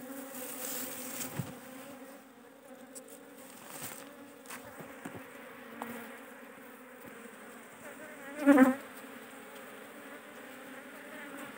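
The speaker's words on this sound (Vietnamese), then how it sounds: "Vì là ong nó thấy sáng là nó cứ lao ra đây" At night, bees swarm out of a hive box toward a light, the colony large and crowded. A steady, dense buzzing hum drones throughout, with one insect passing close and loud near the end.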